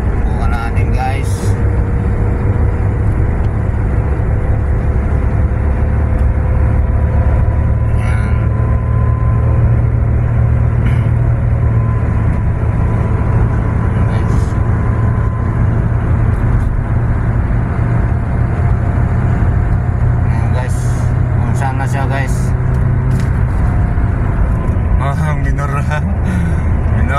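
Car cruising on a highway during a road test drive with a transmission fault, steady loud engine and road rumble throughout as it overtakes in the passing lane, with occasional passing traffic and voices talking over it.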